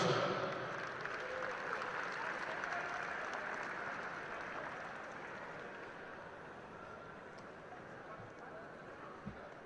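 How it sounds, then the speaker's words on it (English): A crowd at the 2016 World SAMBO Championships in Bulgaria applauds a gold medalist, a broad, steady wash of clapping heard from a distance that slowly fades over several seconds, with a faint thump near the end. "a round of applause for our gold medalist, Elena Mondareva, Russia"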